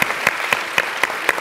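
A short burst of applause at a Future Energy Silicon Valley presentation event, rhythmic clapping from an audience with regular loud peaks, heard alone without talk.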